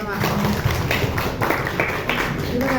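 A group at an educators' gathering claps together in a brisk, dense patter, with voices mixed in alongside the applause.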